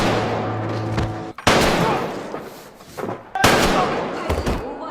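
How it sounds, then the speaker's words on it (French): Gunshots ring out in a Squid Game scene, sharp loud bursts separated by brief gaps, each followed by a heavy thud of a body hitting the ground. "à chaque fois que vous entendez un coup de feu, vous entendez aussi un corps qui tombe"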